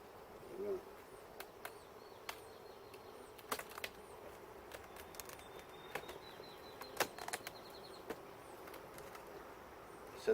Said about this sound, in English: I got wall-to-wall bees